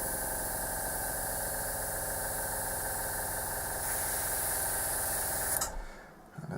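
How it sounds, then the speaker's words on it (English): Airbrush spraying blue paint onto a piece of card, a steady close hiss with a low motor-like hum running almost continuously before cutting off near the end. "Just spray it into a piece of card"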